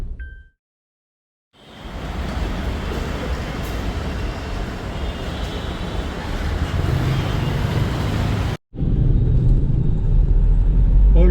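Steady road rumble of a Suzuki Jimny underway, a broad continuous engine and tyre drone that starts after a short quiet gap, runs loud and unbroken, dips out for an instant, then carries on.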